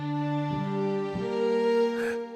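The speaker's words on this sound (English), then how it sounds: "here's the sound of a viola" A sampled viola from the Impact Soundworks Celestia library plays a short legato phrase of sustained bowed notes. It sounds clear and close, with a faint breathy swell near the end.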